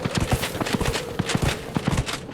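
A horse's hooves clip-clop in a steady walking rhythm on the ground in the video game Dragon Age: Inquisition, close and moderately loud, with faint game ambience behind.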